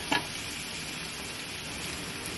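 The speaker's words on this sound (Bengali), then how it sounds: "এবার আমি এই ফ্রাইড চিকেনের পিসগুলো দিয়ে দিলাম।" Fried chicken pieces hitting hot oil and spices in a pan, a short clatter at the start followed by a soft, steady sizzle.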